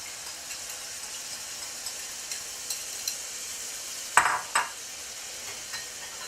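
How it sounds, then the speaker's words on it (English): Shrimp fry in a pan with a constant bright sizzle. Partway through, a honey mixture is poured in, setting off a sharper burst of hissing and a couple of clinks before the frying settles back. "So I'm going to add my honey mixture all over."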